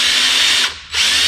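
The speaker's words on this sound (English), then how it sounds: "I'm going to continue to, I guess, drill on that a little bit and see what we can get done" A power drill whines loudly up close while boring into a stubborn broken bolt, running steadily, dipping briefly, then spinning back up.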